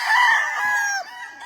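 A gamefowl rooster crows once, loud and close, its long strained call trailing off near the end.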